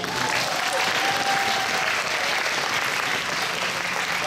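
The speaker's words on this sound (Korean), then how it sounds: "우리 부장님께도 큰 박수" An audience of students at a school STEM festival event claps loudly and continuously, a dense, even wash of applause.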